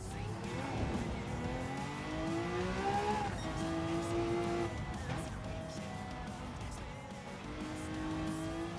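Car engine revving hard with tire squeal during a race in the Gran Turismo 7 video game, a fast car short on brakes and suspension; a loud, continuous engine note rising and falling through gear changes with squealing tires throughout.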